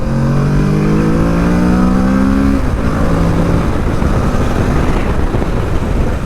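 A 2021 Kawasaki Ninja 650 BS6 motorcycle revs hard through its raw exhaust, a loud close engine note climbing in pitch, then dropping at a gear change and pulling again.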